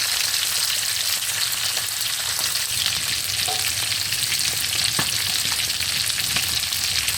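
Carp fish frying in a pan, with a loud, steady oil sizzle running throughout and an occasional faint clink of a utensil.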